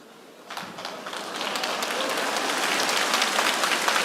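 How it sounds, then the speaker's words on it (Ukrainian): Audience applause at a live stand-up comedy show, starting with quiet near-silence and rising into steady, moderately loud clapping from a crowd that continues without talk. "Поаплодуйте, будь ласка, люди, хто любить писати коментарі в інтернеті."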